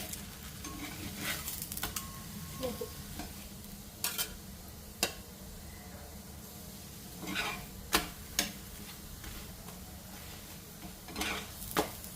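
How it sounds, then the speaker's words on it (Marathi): Methi paratha roasting in a little oil on a pan, giving a low steady sizzle with scattered soft clinks and scrapes of a spatula, fairly quiet and close, with no talking. "दोन्ही बाजूनी छान असा खरपूस भाजून घ्यायचा"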